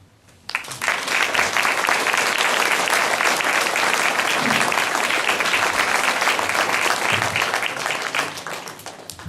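Audience applause during a mayor's New Year address, a loud dense wash of clapping that starts abruptly, holds steadily for several seconds, then begins to fade.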